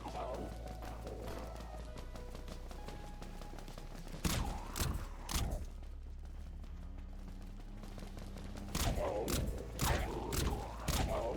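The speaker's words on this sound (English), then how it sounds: "The Dusk Carbine making very easy work of these guys." Carbine gunfire in the zombie shooter Dead Frontier: a pair of sharp shot bursts near four seconds and another cluster near nine seconds, over steady game ambience and low background noise.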